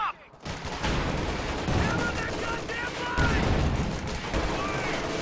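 Company of Heroes 2 battle with a Panzer IV firing on rifle infantry at close range and taking bazooka shots, dense continuous gunfire and blasts, loud and close, with a commentator talking over it.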